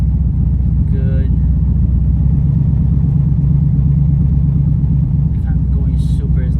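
Corvette creeping slowly up a steep hill toward a repair shop, its engine a low, steady rumble close by, with brief faint voice-like sounds near the start and end.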